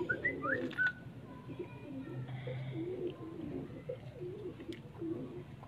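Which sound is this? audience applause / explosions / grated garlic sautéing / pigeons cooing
pigeons cooing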